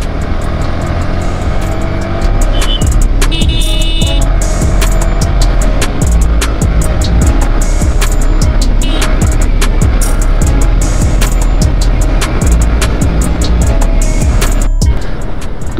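Loud, sustained engine roar from close range as KTM motorcycles race each other on a Sunday ride, with the revving constant throughout and wind buffeting over it.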